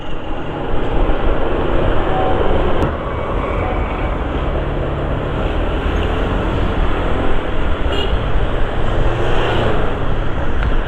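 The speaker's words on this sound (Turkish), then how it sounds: "bu tramvay Eminönü'ne kadar gidebiliyor" An Istanbul tram rumbles along steadily with a loud, continuous rolling noise and faint metallic squeals, no voices.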